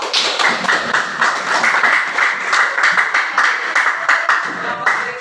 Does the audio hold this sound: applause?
yes